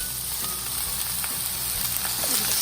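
Peppers, mushrooms and spinach frying for fried rice, a steady, dense sizzle with faint stirring taps, close and continuous throughout.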